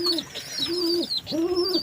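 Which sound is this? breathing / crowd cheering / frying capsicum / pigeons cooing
pigeons cooing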